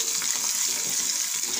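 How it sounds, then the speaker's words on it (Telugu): Tempering of spices frying in oil in a pan for a gongura lentil curry, a steady close sizzle with faint scraping as it is stirred, no voices. "చూసారుగా తాలింపు సార్ తిప్పుకుందామే,"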